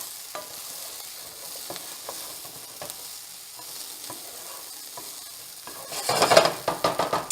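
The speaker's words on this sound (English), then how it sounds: "I'm going to add back in the chorizo. We're going to give everything a big stir again." Chorizo and potato breakfast hash sizzles gently in a hot pan while a utensil stirs and scrapes through it, the frying growing louder with rhythmic stirring strokes near the end.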